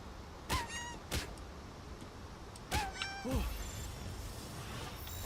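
Cat-like creatures in the game Palworld give several clear, separate meows in quick succession, some of them rising and bending in pitch, over a quiet background.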